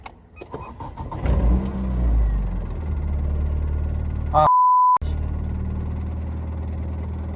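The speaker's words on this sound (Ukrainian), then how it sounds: "у мене вийшло завести машину" A 1989 Opel car engine cranks and catches about a second and a half in, then settles into a steady, loud idle rumble, broken briefly by a short electronic beep near the middle.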